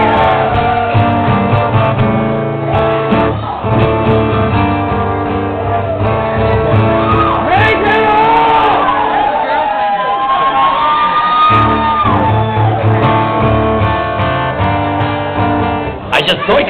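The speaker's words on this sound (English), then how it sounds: "when the Star Trek people cheer that fucking loudly" A concert crowd of Star Trek fans cheers and whoops loudly and continuously, a dense roar of shouting voices close by with no pause.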